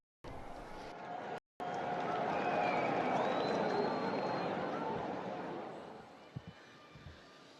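A large crowd in St Peter's Square applauding the Pope as he appears at the window of the Apostolic Palace, a broad sustained roar of distant clapping and cheering that swells and then fades.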